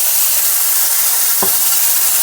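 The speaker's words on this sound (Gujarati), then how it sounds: "એક બે ચમચા જેટલું પાણી નાખું" A hot pan of patra made from leftover rotis sizzles loudly and steadily after a spoonful or two of water goes in, with a continuous hiss and a brief scrape of stirring partway through.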